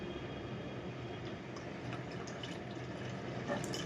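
Water poured into a pot to make plain tea, a steady broadband splashing rush at moderate level that runs continuously without a break, with no voices.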